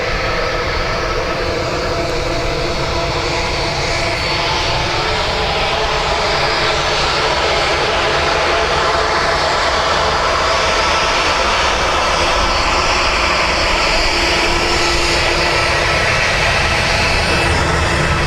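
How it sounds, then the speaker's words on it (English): Turkish Airlines jet departing Dublin Airport for Istanbul, its engines a loud, steady roar that holds throughout at close range with no voices over it. "So, Turkish Airlines off to Istanbul."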